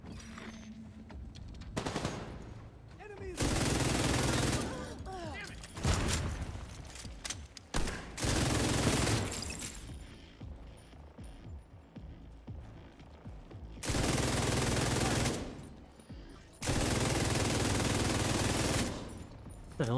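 Bursts of heavy automatic gunfire from The Division 2, aimed at a warhound robot, come in several loud sustained volleys of about two seconds each, separated by quieter gaps with background game noise.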